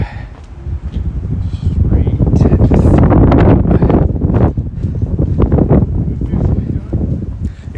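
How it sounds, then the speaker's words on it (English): Strong wind roars continuously into the microphone during a trail run, loud and gusty throughout, with rustling and no clear speech. "that wind is not fun"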